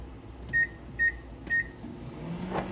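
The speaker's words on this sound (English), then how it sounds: "we're going to put it in the microwave for about 45 seconds" Microwave oven heating a jar of hot fudge sauce, giving three evenly spaced electronic beeps over a low steady hum, followed by a faint clunk as the oven winds down.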